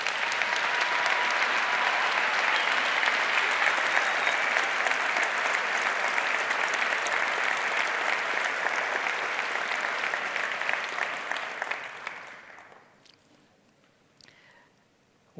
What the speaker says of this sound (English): can I ask one applause for the staff members representing the university?